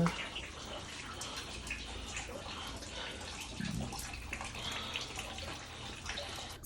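Water runs and splashes steadily nearby, a soft continuous gush like a filling tub, with faint drips and no voices.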